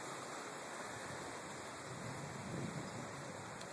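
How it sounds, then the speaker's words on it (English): Rain drums on a house roof during a stormy day in Oblong, Illinois, as a steady, dense hiss of drops with no pauses, fairly close and with no one talking. "I can hear the rain hitting my roof now."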